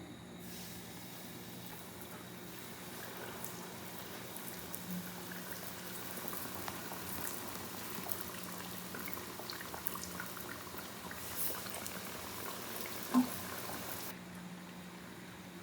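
Bannock dough sizzles and bubbles as it fries in a pan on a stovetop set a little above medium heat, a steady soft crackle that continues throughout, with a small pop near the end.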